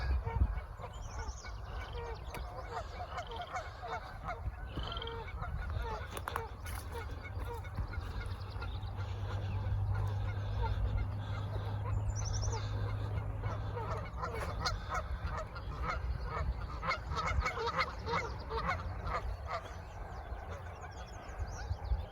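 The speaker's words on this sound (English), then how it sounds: "maybe 9 geese going up into the forest here, probably more" About nine geese honk repeatedly in the distance near a forest over a steady low rumble, with scattered bird calls, chorus frogs and faint voices mixed in.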